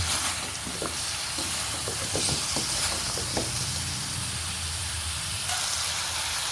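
A steady, continuous sizzling hiss of goat head-and-feet tamarind soup bubbling hard in a pot, close by and even in level throughout, with no voices.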